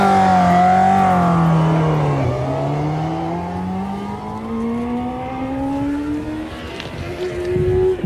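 A motorcycle engine drones loud and close, its pitch falling sharply as the throttle is chopped, then climbing steadily again through a long smooth rise.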